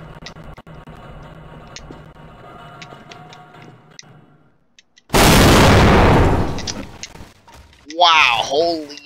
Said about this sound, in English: this is gonna be an explosion to remember